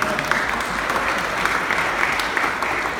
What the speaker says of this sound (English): Raise their hands, give them a round of applause.